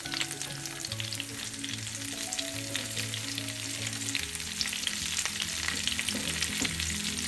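Curry leaves fry with tamarind in a pan for a curry leaf chutney, giving a continuous close hissing sizzle as they are stirred, with a faint steady hum underneath and no talking.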